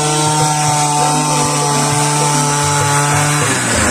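A cheap Chinese Tesla-brand engine drives a paddy-field weeding machine with a loud, steady, close-up buzzing drone. Its pitch wavers slightly and dips near the end, and no one speaks over it.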